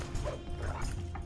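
Dog barking in a Game of Thrones video game, a few quick yips and barks over a steady low game soundtrack, fairly close, with no talking.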